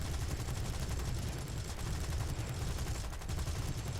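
Aircraft guns fire at a Beaufighter in the combat flight game War Thunder, a dense, continuous rapid-fire rattle of cannon and machine gun bursts that stays loud throughout with no talking.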